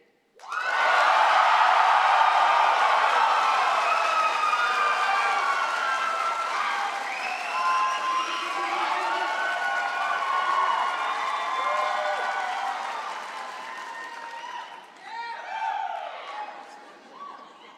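Graduands cheering at the SAIT Spring 2023 convocation ceremony: a loud, sustained roar of crowd cheers, whoops and applause from a large hall that holds steady before tapering off, with a voice coming through near the end.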